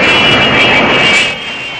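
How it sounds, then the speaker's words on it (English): Airliner engines roar loud and close as the plane arrives at an airport, a steady jet whine that eases slightly near the end. "British National Airways announce the arrival of flight EN407 from"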